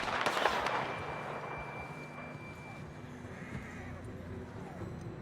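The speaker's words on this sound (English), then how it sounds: "John was riding that horse when we left Blackwater." A horse neighs near the start in the video game Red Dead Redemption 2, a brief whinny over a low game ambience, followed by a quiet, steady background.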